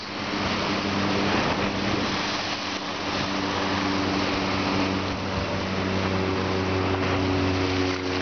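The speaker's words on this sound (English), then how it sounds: "And these are the waves." Ocean waves washing steadily onto an island shore, a constant broadband roar with a low engine hum running underneath, no voices.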